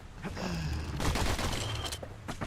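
Enemies fire guns in the video game Bastion: a flurry of close, rapid gunshot bursts crackles over the game's background tones for a couple of seconds.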